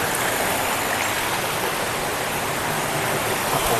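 A small stream flows with a steady, broad rushing hiss that stays constant and fairly loud throughout, close at hand, with no voices over it.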